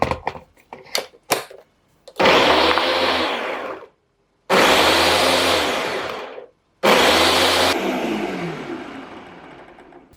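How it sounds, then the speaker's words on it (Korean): A kitchen blender grinds sliced tomatoes and fresh garlic in three loud, whirring bursts, each running a second or two before cutting off. Brief clicks and knocks come before the first run. "블렌더에 넣어 갈아주려고요."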